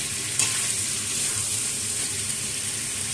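Elephant foot yam and potato sautéing over medium heat in a pan, with a steady soft sizzle and the occasional scrape of stirring across the whole stretch.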